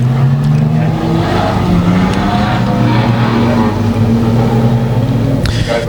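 Race cars lapping the circuit at Manjimup, with several engines droning loudly and continuously and a car roaring nearer and revving toward the end.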